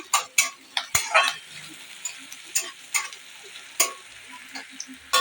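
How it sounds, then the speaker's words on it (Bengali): Chopped onion and green chilli frying in a pan, a quiet sizzle under repeated sharp clinks and scrapes of a spatula stirring against the metal, close by with no talk. "লঙ্কাটা দিয়ে আমি আরেকটু ভালো করে ভেজে নেব।"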